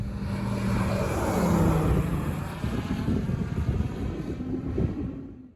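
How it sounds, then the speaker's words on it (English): A Montaer Mc-01 light aircraft's Rotax 915iS turbocharged engine drones steadily and loudly nearby, with a rough propeller buzz and wind rush, no voices. "Today we'll fly the Mc-01 equipped with a Rotax 915IS turbocharged engine"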